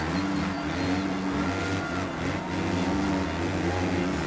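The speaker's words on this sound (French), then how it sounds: "C'est la moto qui va jouer là, la puissance du moteur." Motocross motorcycle engines in the video game MXGP3 drone steadily at high revs, a dense, loud buzzing roar with no pause and no talk over it.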